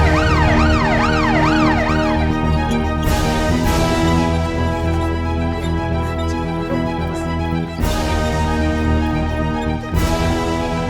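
An ambulance siren wails in loud, rising and falling sweeps for about two seconds, then gives way to a dense, dramatic music bed that continues to the end.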